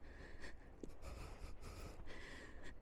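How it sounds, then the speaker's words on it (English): Heavy, rhythmic breathing of a person walking outdoors along a snowy waterfront, close to the microphone with repeated puffs of breath and no talk. "You can hear my breathing."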